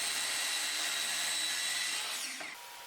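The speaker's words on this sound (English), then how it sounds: "I'm cutting these pieces cross grain." A power saw cuts cross grain through wood pieces for a pocket-hole bookshelf, a loud steady whine that drops in pitch and tails off as the cut finishes.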